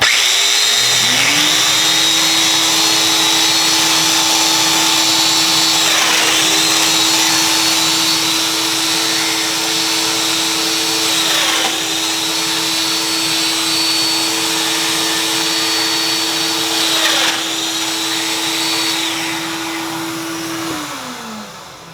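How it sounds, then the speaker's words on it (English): Loud, close, continuous whirring drone of a domino joiner power tool running in a workshop, holding steady for over twenty seconds with slight pitch shifts from several plunge cuts, then tapering at the end. "Turn your domino on."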